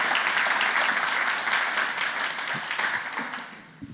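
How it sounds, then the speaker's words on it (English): Audience applause at the close of a tech talk on JavaScript and data privacy, a dense steady wash of many clapping hands that thins slightly toward the end, with no voices over it. "Yeah, big applause."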